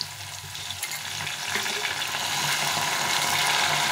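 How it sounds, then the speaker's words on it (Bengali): Potato chips frying in a batch of hot oil as salted water is added, a loud steady sizzle with crackling bubbles that builds slightly and holds, no voices. "এর মধ্যে আবার একটু লবণ জল দিয়ে দেবো।"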